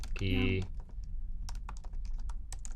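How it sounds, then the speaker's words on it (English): Typing on a computer keyboard while writing code, a quick burst of close, crisp key clicks following a short tonal sound at the start, scattered and uneven in rhythm. "That's why I'm typing this all."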